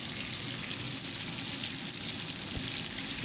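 Chicken fries in a pan with a steady, close, even sizzle that goes on without a break, and a single soft knock near the end.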